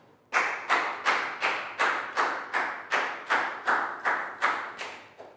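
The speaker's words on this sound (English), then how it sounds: "Big round of applause for Pat" A classroom round of applause for a student, heard as about a dozen evenly spaced, loud, close claps or table thumps in a steady rhythm, with no talking.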